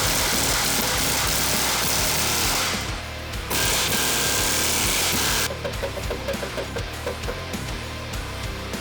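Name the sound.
air chisel breaking loose a coilover shock clevis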